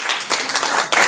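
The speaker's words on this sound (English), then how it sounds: "Please a round of applause." At a Mining Indaba conference in Cape Town, an audience breaks into brief, close applause, a dense patter of many hands lasting about a second.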